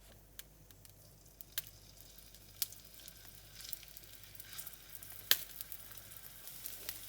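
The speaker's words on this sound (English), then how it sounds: "I'm going to be frying in oil" Liver frying in a pan with a thin layer of oil gives a quiet, steady sizzle with scattered small pops and crackles, close by and with no voices over it.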